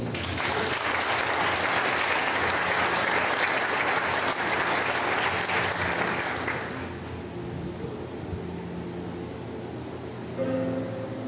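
A church congregation at a Sunday Baptist service breaks into loud, full applause that roars for about seven seconds, then drops away to a quieter hall murmur.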